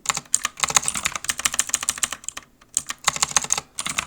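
Fingers tap rapidly on a computer keyboard while typing code, in close, crisp bursts of clicks with a short pause partway through and no talking.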